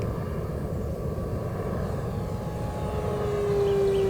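An electric RC FG-1 Corsair model plane flies knife edge, its motor giving a steady whine with a rising tone that swells slightly toward the end, no voices present.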